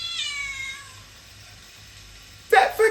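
Cat meow during a live stage performance, a drawn-out descending cry near the start, then a quiet pause before a brief burst of voice or noise at the end.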